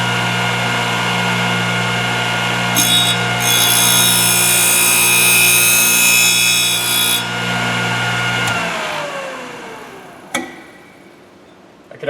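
A Thorvie AV-40 sharpening machine grinds the flute of a router bit, a steady loud whine with high harmonics that holds for several seconds, then winds down and fades, with a couple of brief knocks near the end.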